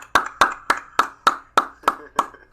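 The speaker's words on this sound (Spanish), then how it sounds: "Aplauso to Wasson" Eight sharp, evenly spaced hand claps ring out close and alone, a single person slowly clapping for the MVP of a 2K Park tournament final.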